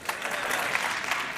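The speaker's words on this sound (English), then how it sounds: "if you know Hindi, please clap" A TED talk audience breaks into brief, dense clapping, a close and fairly loud patter of many hands that fills the moment without any voices.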